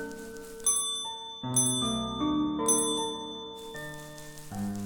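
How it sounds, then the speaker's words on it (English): A bell struck in the video game OneShot rings out in clear, bright chiming tones, several strikes in a row over soft game music. "We hit this bell?"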